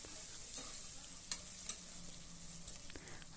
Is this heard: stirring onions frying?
yes